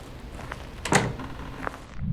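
A front door opens in the ghost-hunting video game Phasmophobia, heard as a short wooden thunk with a few softer knocks and creaks around it, moderately loud against a low ambient hum.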